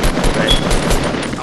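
Rapid gunfire crackles loudly and continuously in the Fortnite video game, a dense burst of overlapping shots filling the whole short moment with no voices.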